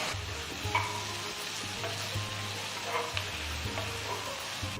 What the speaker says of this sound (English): Next, add 4 medium-sized tomatoes chopped.